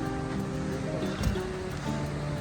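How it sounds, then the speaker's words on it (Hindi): A waterfall on the Gaumukh trek above Gangotri pours steadily, a dense, continuous roar of rushing water that fills the scene without pause. "ये आगे खूबसूरत झरना बहता हुआ"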